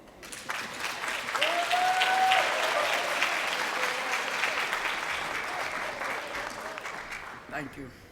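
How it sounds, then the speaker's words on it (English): Luncheon audience at an education policy conference breaks into sustained applause, swelling quickly and holding steady before tapering off near the end, with a voice briefly audible through the clapping. "Dr. Johnson, representing AFT, a beautiful round of applause."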